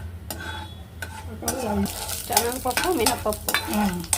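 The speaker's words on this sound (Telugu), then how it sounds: "మూకుడు పెట్టి నూనె వేసావు, నూనె కాగిన తర్వాత పోపు గింజల" Tempering seeds with chana dal and urad dal are tipped into hot oil in a pan, giving a crackling sizzle. A spoon scrapes and clinks against the pan while it is stirred, and faint voices come through now and then.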